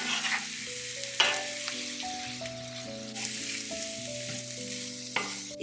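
Onion, garlic and mushrooms frying in butter, a soft continuous sizzle with a few stirring clicks and spatula scrapes, close and fairly quiet.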